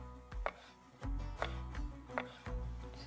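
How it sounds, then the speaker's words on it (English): A knife thinly slicing cherry tomatoes on a cutting board gives four or five distinct, fairly soft chops at an uneven pace, heard close and clear with no voices. "For the citrus, we are going to use cherry tomatoes. Just thinly slice."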